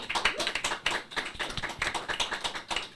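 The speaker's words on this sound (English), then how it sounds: "let's give them another big round of applause." Steady applause from a group, many hands clapping in a quick, uneven patter for a few seconds with no voices.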